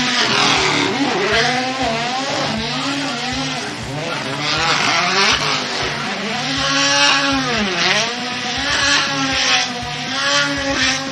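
A drift car with anti-lag races around Okayama International Circuit in a Formula Drift Japan round, its engine loudly revving and swooping in pitch with rhythmic anti-lag pops and bangs, while commentators talk over it.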